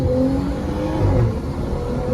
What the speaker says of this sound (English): The inline sound of the inline 6 is so clean.